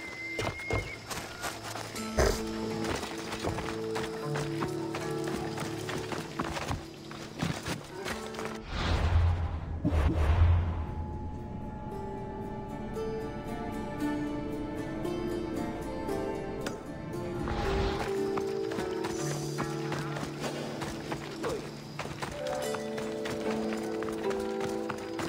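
Horse galloping in Assassin's Creed Odyssey: steady rhythmic hoofbeats drum on through most of the stretch, layered with game sound and music, with a heavier thudding burst partway through.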